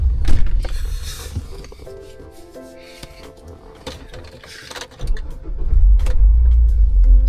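A Lotus Carlton engine turns over and catches, with mechanical whirring and clicks during cranking before a deep, loud engine rumble builds as the car pulls away.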